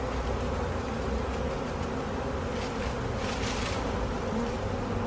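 A honeybee swarm drones steadily and close at hand as workers fan scent at the entrance of a hive box during a low swarm capture, a dense continuous buzz with no voices.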